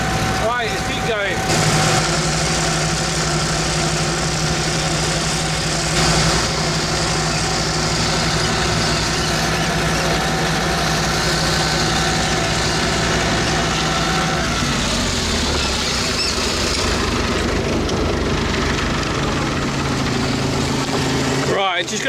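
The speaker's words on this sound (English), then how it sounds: "I've got to shout because of the noise of the tractor" A farm tractor engine runs steadily and loudly while mowing hay, a constant low drone with harmonic hum from inside the noisy cab, with a voice talking over it.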